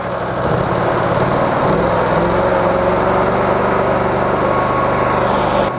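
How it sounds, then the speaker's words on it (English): Fire pump engine on a custom-built Isuzu fire truck by Terber, loud and close, its steady drone rising in pitch as the revs climb, then holding a higher, even note with no talk. "Increase the revs to get 7 bar pump pressure."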